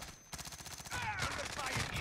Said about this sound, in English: We're getting shot at from somewhere else